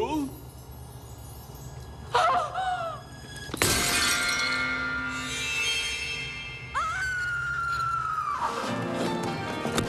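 Glass shatters with a sudden loud crash in a tense dramatic scene, followed by ringing debris, with a horse whinnying and music and voices around it.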